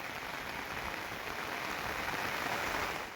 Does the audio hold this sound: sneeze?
no